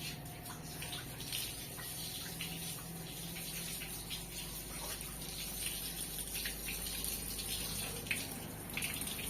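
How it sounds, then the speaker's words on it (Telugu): Water is poured over things at a new house under construction, making a faint, continuous splashing and gushing flow with no clear breaks. No speech is heard. "మా ఆయనకి ఇక ఏం చేయలేక నీళ్ళు పడుతున్నాడు మొత్తం వాటి మీద"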